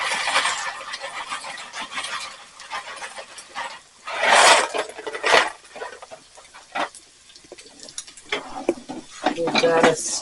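Penne noodles are stirred in a pot of boiling water, with scraping and clattering strokes against the pot coming in uneven bursts over a bubbling background, close by.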